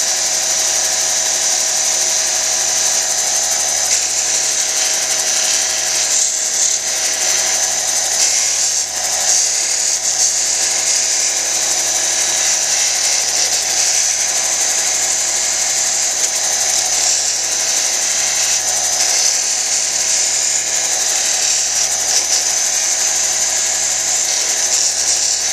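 A lapidary wheel at 600 grit grinds a soft-stone freeform cabochon, giving a steady close whirring hum with a gritty high edge and slight dips in pressure, with no voice heard.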